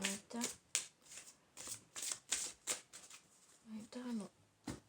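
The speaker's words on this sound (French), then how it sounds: "Je vais prendre une dernière carte" Tarot cards shuffled by hand in repeated soft riffles and taps, about a dozen quick bursts in an uneven rhythm, close and quiet, with brief pauses between them.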